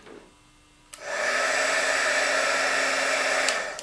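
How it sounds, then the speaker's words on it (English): A craft heat tool roars on steadily as it blows hot air over damp dahlia petals, switching on abruptly after a quiet moment and holding a loud, even whoosh to the end. "use my heat tool"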